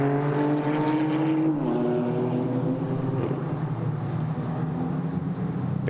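ADAC Formula 4 race cars roar around the Nürburgring on a chilly day, a loud, continuous blend of engine whine that shifts pitch as cars weave past, with no voices over it.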